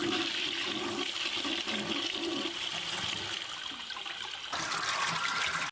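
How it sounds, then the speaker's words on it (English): A water closet flushing nearby, a loud continuous rush and gurgle of water filling the bowl for several seconds before cutting off abruptly. "ensure that you do not flush the water closet or the units unnecessarily"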